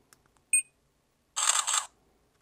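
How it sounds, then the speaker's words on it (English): Body camera taking a photo: a brief electronic beep, then a short synthetic shutter click-and-whir sound about a second later, near and clear in a quiet room. "Then we can take a picture."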